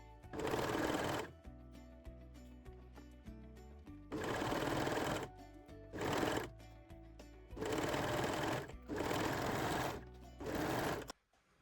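Sewing machine stitching jersey crotch pieces to a main panty piece runs in several rapid bursts of a few seconds each, with short pauses between, close and clear, with no talking.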